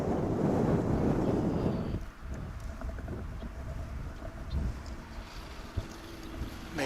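Wind gusting across an open microphone at DFW airport, with a loud, rumbling buffet for the first two seconds that drops to a lower, steadier blustery roar with occasional soft thumps.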